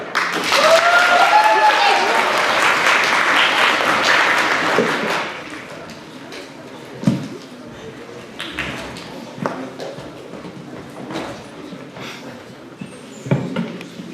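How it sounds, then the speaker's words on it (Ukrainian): Applause from a student audience at a Physics Day celebration skit, a loud dense burst for about five seconds that thins into scattered claps and a few sharp taps. "Підтримуємо оплесками."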